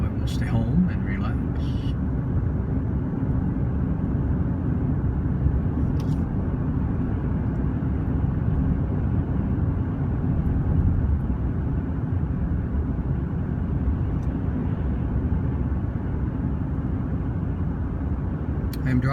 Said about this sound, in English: I am driving a Chevy Colorado 2018